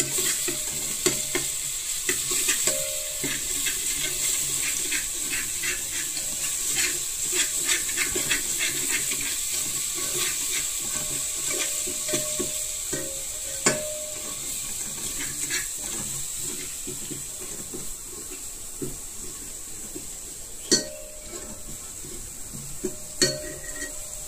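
Ginger, garlic, coriander and cumin paste sizzles steadily in a pan, a continuous frying hiss broken by occasional clinks and scrapes of stirring, with no voices.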